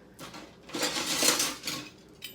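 A set of kitchen knives clattering as they are handled, with bright metallic clinks and scrapes swelling over a couple of seconds, fairly close and with no talk.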